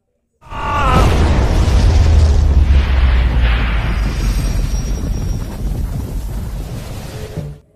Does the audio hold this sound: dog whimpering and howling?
no